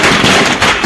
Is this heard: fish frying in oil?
no